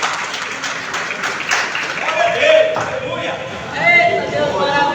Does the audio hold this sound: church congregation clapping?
yes